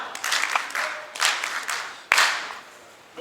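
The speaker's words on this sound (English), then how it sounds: "Can we clap for him once again?" An audience applauds at a launch event in a hotel, bursts of clapping rising and fading over a few seconds with one sharp loud clap near the end, no voices over it.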